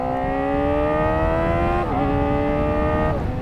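A Kawasaki ZX-4RR motorcycle engine, a bike with a redline around 16,000 RPM, holds a loud, high, buzzing rev that climbs steadily, dips briefly, then rises again, close up with no talk.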